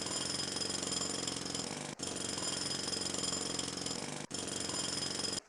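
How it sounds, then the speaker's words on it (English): Video game jackhammer in a dino-digging mini game, a continuous loud grating rattle with two brief cutoffs, unaccompanied. "Let me know if the jackhammer sound is also like a little too grating."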